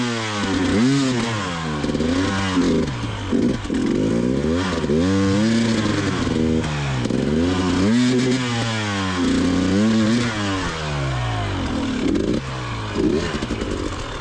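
A motorcycle climbs a wet, slippery bank on an off-road lane, its engine loud and close as it revs up and drops back again and again with wheelspin-like surges and bursts of throttle.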